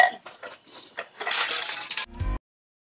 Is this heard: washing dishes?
yes